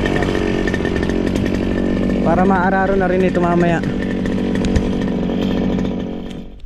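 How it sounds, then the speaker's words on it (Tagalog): A grass cutter runs on a farm as a steady, loud engine drone lasting throughout, with someone talking over it. "Start na tayo mag-grass cutter naman dito sa sa lead farm mga katrops."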